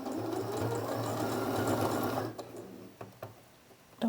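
A sewing machine stitching fabric, its fast even needle whir running steadily for about two seconds, then stopping and leaving a few soft clicks and handling knocks.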